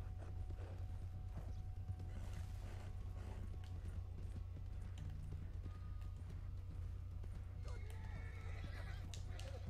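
Galloping horse hooves in Red Dead Online beat out a steady, loud clip-clop rhythm with a brief whinny, running continuously under game music and ambience.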